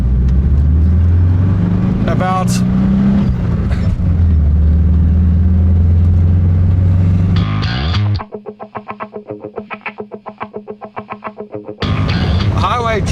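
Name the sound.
Volkswagen Beetle car accelerating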